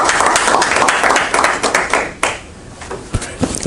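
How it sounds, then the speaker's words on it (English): A round of applause for a guest after a question session, many hands clapping loudly and close, then thinning and fading into a few scattered claps near the end. "Round of applause."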